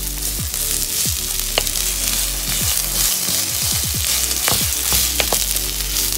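Ground meat sizzling with onion in a pan, a steady bright crackling fry throughout, with scattered scraping and clinking of a utensil stirring and tapping against the pan, no voices.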